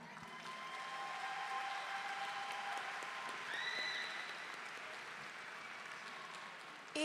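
Graduation crowd at a Tennessee State University fall ceremony applauding and cheering steadily, a dense wash of clapping from a large audience that holds at an even level throughout, with a brief swell of whoops midway.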